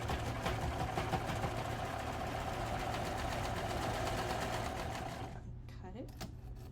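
A fast serger sews a seam on a little girl's dress with a rapid, even mechanical chatter. The stitching runs steadily for about five seconds, then stops, leaving a quieter hum.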